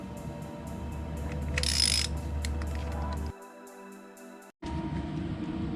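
Bolts on a Nissan valve cover being tightened after a gasket replacement, with ratcheting mechanical clicks over a steady garage hum, then a pause and a brief dropout before the hum returns.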